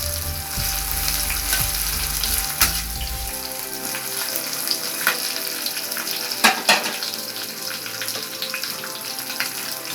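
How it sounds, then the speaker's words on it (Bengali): Chopped onions fry in hot oil already tempered with cardamom, cinnamon and clove for chole bhature, giving a steady close sizzle throughout; a low hum sits under the first few seconds, with a couple of brief clinks later. "এরপর আমি পেঁয়াজটা ভাজতে দিয়ে দিচ্ছি।"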